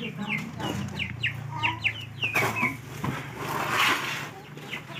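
Chicks chirp repeatedly in high, short peeps beside an Asia-brand incubator machine as it is opened, close and fairly loud, with a low machine hum and people talking over them.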